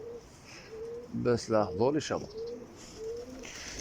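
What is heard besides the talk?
pigeons cooing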